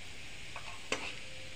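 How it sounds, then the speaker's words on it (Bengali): Bay leaf, four or five dried red chillies and cumin seeds frying in hot oil, a soft steady sizzle with a couple of quick stirring scrapes, close and quiet, with no speech. "লাল লাল করে ভাজবো।"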